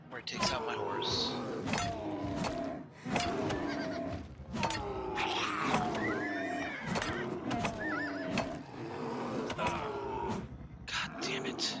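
A horse neighs and whinnies several times in The Elder Scrolls: Oblivion Remastered, loud and close, with people talking between the calls.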